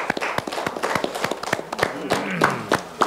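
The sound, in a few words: applause at the close of a meeting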